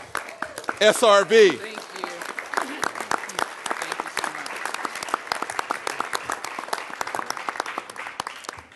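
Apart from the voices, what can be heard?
round of applause for incoming president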